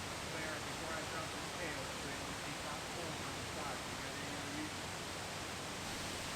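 Waterfall at Indian Run Falls in urban Columbus, Ohio, a constant broadband rush of falling water, steady and moderately distant, with no voices.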